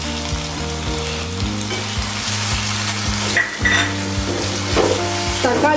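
Chopped tomatoes fry in a pan for a country chicken gravy, making a steady, loud, close sizzle with a few soft stirring knocks and no talking.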